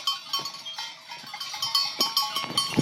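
Goats bleat repeatedly at close range on a mountain hike in Gran Paradiso National Park, Italy, with cowbells clinking among the herd. The short cries overlap and come in an irregular, busy stream with no talking.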